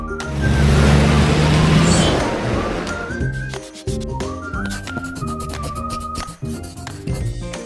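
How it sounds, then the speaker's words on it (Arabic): A bus engine rumbles loudly and steadily at first, then eases into lower, uneven traffic noise with faint hissing and scattered tonal sounds. "حافلة"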